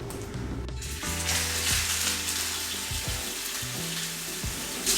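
Burgers frying in a hot pan, giving a steady, loud, close sizzle throughout with small clinks and scrapes from the pan, and no one talking.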